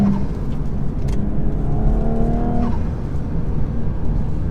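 A Stage 1 tuned Audi S4 engine hums steadily between 3,000 and 5,000 rpm, a smooth continuous drone with a slight rise and fall, close and fairly loud.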